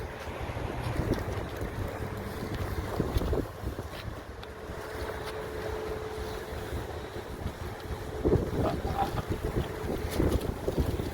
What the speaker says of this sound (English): Strong wind and a lot of rain.